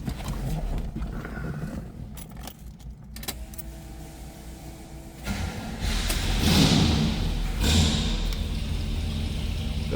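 A 1971 Chevrolet Chevelle Malibu two-door hardtop cold-starts: clicks and rattles at first, then after a few seconds the engine catches and settles into a loud, rough idle that swells and holds close by.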